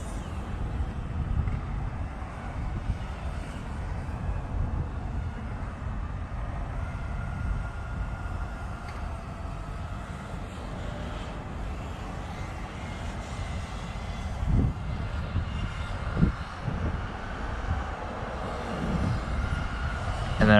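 FPV drone carrying a GoPro Hero 9 with Max Lens Mod cruises slowly in flight, giving a continuous low rumbling whoosh of wind and motors, fairly faint and steady, with a few soft bumps toward the end.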